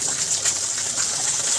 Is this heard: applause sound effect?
no